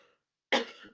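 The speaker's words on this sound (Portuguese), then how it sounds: "só faltava agora um ataque de tosse" A single sharp cough bursts out close to the microphone after a near-silent moment, trailing off with a rough, throaty tail.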